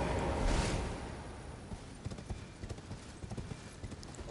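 Horse hooves clip-clop during a horseback battle in the video game Elden Ring, a steady galloping rhythm of repeated hoof strikes following a louder burst of combat noise at the start.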